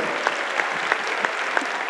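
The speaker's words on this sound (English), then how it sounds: "Would you clap your hands to the Lord today?" A congregation in a chapel service claps along in a steady rhythm, a crowd of hands with sharper accents landing about every third of a second over a continuous wash of clapping.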